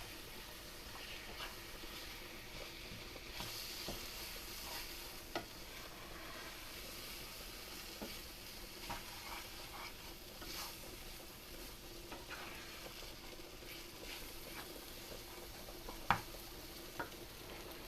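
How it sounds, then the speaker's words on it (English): Raw flour cooking with beef tips in a pan gives a soft, steady sizzle with occasional light scrapes and ticks, heard alone and fairly faint throughout. "what I'm going to do now is add my flour. I've got about 1/3 cup of flour. We're just going to cook that raw flour taste out."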